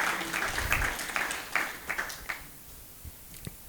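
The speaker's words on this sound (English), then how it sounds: "So I think give him a hand of applause." An audience at a green power forum applauds: a fairly dense patter of clapping from a room of listeners thins into a few scattered, fading claps.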